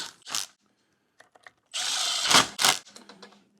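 A power tool tightens the clutch kit bolts on a Can-Am Defender HD11 in a cross pattern, with short whirring and ratcheting bursts, one longer run ending in sharp impact chatter, loud and close.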